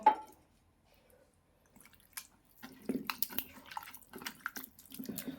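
Water poured into a pan of sardine curry masala, made with the rinse water from the masala bowl, gives a few soft splashes followed by faint dripping and trickling in a quiet home kitchen.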